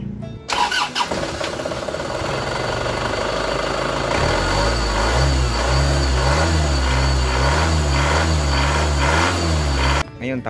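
An Isuzu Hi-Lander engine cranks, catches and settles into a steady, pulsing run to circulate coolant, loud and close for several seconds before cutting off.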